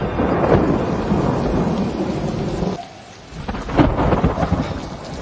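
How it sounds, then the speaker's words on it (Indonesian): Heavy rain pours steadily while thunder rumbles loudly, fading briefly before a second deep roll crashes in close by. "Tiba-tiba hujan turun."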